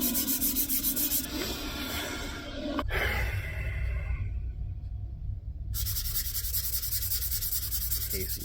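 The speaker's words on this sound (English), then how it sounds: "I'm sorry that I didn't film the full sanding process." Continuous hand sanding of a mid-1980s Aria Pro II guitar's wood, a loud raspy rubbing that shifts in pitch and pressure, briefly easing before resuming at full strength.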